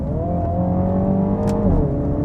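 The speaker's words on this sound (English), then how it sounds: "That exhaust sound is so good too." A 2022 MINI Countryman JCW's exhaust hums loudly and steadily through a corner, the engine note holding level and then dipping slightly near the end, with no speech.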